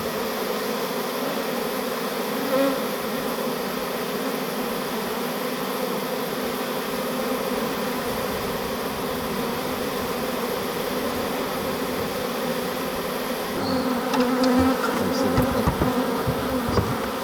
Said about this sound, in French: les abeilles rentrent dedans